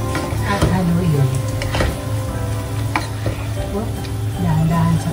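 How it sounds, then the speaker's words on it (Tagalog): Fish fillet cooked with black bean paste sizzles steadily in a pan while a utensil stirs it gently with soft scraping clicks. "Dahan-dahan sa paghalo dahil matudurog ang ating fish."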